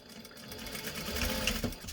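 A sewing machine stitches a drawstring dice bag, a fast even whirring of needle strokes running continuously at close range for about two seconds.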